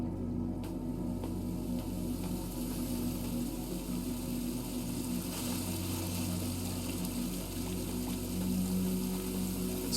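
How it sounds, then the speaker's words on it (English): Falling water in the video game Aer: Memories of Old makes a soft, continuous pouring rush, steady and fairly quiet, with faint low hum beneath and no speech. "Like the sound of the water falling is pretty calming."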